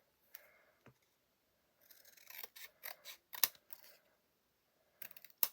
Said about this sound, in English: Nice big pair of scissors.